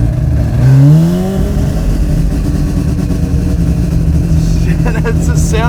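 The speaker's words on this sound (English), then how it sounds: "That just sounds so angry," A Mazda RX3's engine revs hard while driving, a loud rumbling growl that climbs in pitch once early on and then holds a steady, gruff drone from inside the car.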